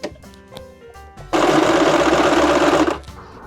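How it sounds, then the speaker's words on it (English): A sewing machine stitches across box pleats in fabric, a loud, rapid mechanical chatter lasting under two seconds, framed by quieter handling noises before and after. "Stick it under our sewing machine."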